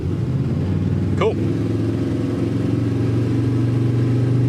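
Slammed dually pickup truck accelerating while towing a trailer, a steady mid-range engine drone heard from the cab with a person talking over it.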